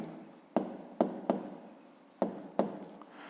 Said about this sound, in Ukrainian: давайте писати